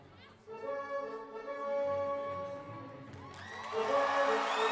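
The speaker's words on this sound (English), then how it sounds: "there the people are clapping for clapping" A comedy special's audience breaks into loud clapping and cheering that swells over a sustained musical tone, crowding the room with noise near the end.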